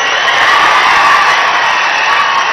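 A large crowd at a Telangana political rally roars with loud, continuous cheering and clapping, a dense close wash of voices and applause that holds steady for a few seconds.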